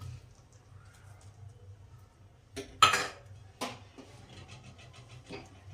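A spoon stirs sev tomato curry in a pot with the heat off, giving a few scattered scrapes and clinks, the loudest burst partway through, over a low steady hum.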